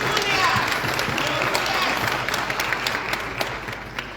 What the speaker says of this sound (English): A big round of applause for this man right